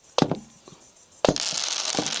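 A sharp hammer strike cracks a brittle chocolate Coca-Cola bottle, followed by a couple of softer taps, then a second hard blow shatters it into a sustained crunching, crackling rattle.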